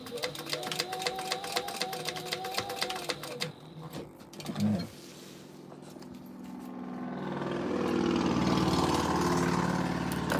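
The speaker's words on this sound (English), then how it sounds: "That was a loud motorcycle." A loud engine roar swells up from about six seconds and holds steady to the end, following a stretch of rapid mechanical clatter.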